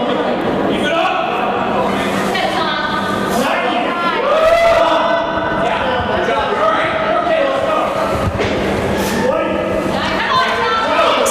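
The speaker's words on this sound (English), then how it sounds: "Teammates are cheering him on." Teammates cheer on a participant during a fitness challenge, with shouts and excited voices rising over a busy indoor crowd and a few dull thuds from the exercise.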